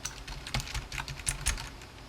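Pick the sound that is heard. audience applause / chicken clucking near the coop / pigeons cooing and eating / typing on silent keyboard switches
typing on silent keyboard switches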